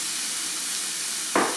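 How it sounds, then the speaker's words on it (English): Raw ground beef slipped into a hot pan bursts into a short sizzling hiss near the end, following a steady low background hiss, close and alone without talk. "so it's going to sizzle a little bit"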